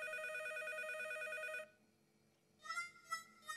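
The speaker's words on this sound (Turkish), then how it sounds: "Anne anne, seni aradım ve telefon çaldı." A cartoon telephone rings with a bright electronic tone for about a second and a half, goes quiet, then gives a few shorter ring bursts near the end, with no talking.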